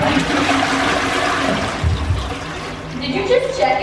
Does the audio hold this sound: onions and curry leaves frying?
no